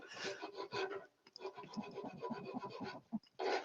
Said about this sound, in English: There's always a little bit of hand sanding with multi-axis.